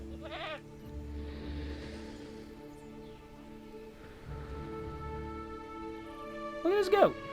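A goat in the Jurassic World Evolution video game bleats twice, a short quavering call at the start and a louder wavering one at the end, over a low steady game hum.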